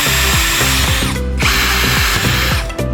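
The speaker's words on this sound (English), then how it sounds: "Next, put on the cover and fasten the screws." A power driver drives screws into a PV combiner box cover in loud, close bursts, its motor whirring with repeated dips in pitch as each screw seats, the whine pulsing several times without talk.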